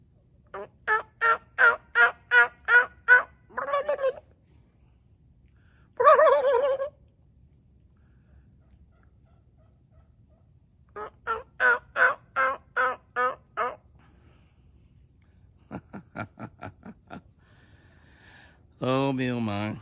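Wild turkey gobblers strutting outdoors, several rapid gobbling bursts in separate bouts across a quiet field, moderately distant and clear, with a few shorter calls in between.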